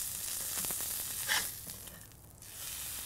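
A burger sizzles steadily in a hot pan just after being flipped, a continuous close frying hiss with a brief louder crackle partway through.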